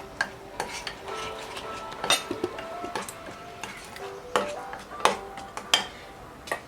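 A spatula scrapes and taps against a pan while fried rice ingredients with kasuri methi are mixed, giving irregular clinks and scraping strokes over a faint background sizzle.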